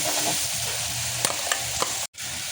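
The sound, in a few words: spice paste (masala) roasting in oil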